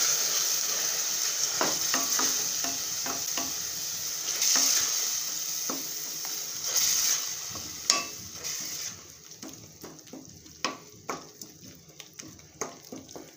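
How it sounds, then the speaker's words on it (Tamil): Ingredients for rajma masala curry sautéed in a pan, a spoon scraping and tapping in an irregular rhythm over a sizzle that fades partway through, leaving sharper, sparser clinks and scrapes toward the end. "இப்போ நம்ம வதக்க ஆரம்பிச்சிடலாம்"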